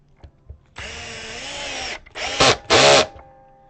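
A power drill drives screws into a guitar, giving a long steady whir followed by two shorter loud bursts, close and with no talking.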